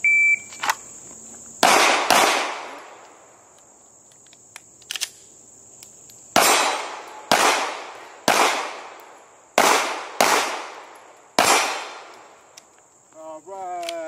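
Pistol shots fired at targets during an IDPA shooting stage: sharp, loud cracks, one early and then a rapid string of about six shots with short pauses between, under a steady high electronic beep or whine.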